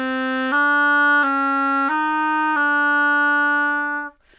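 An oboe plays a slow rising scale of sustained low notes as a warm-up, five clean tones stepping upward one after another, solo with no talking.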